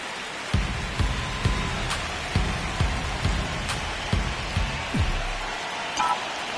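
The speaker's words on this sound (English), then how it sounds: "the field's not going to be able to hold up if the rain gets any worse than this" Rain falls steadily on a baseball field in the MLB The Show video game, a constant hiss of rain with a few soft low thumps spread through it and no talk.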